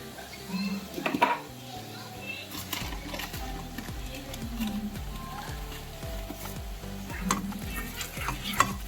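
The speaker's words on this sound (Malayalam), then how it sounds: "ഈ ഒറിഗാനയും ചില്ലി ഫ്ലേക്സുമായിട്ട് നന്നായിട്ട് നമുക്ക് ഈ വെളുത്തുള്ളിയും ബട്ടറുമായിട്ട് നന്നായിട്ട് മിക്സ് ചെയ്യാം" Garlic, butter, oregano and chili flakes stirred in a pan, heard as a steady sizzle with repeated close scraping strokes of a spoon in a regular rhythm, under occasional talk and a voice.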